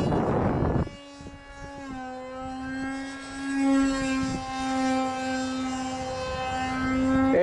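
A Guppy Remix RC model plane flying, its electric motor a steady whining buzz with strong harmonics that rises and falls as it passes, preceded by a brief gust of wind noise.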